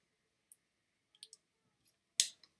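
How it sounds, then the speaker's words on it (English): Packaging tape being cut off a headphone box: a few light, close clicks followed by one short, sharp tearing burst near the end, with no talking. "so cut this tape off of here."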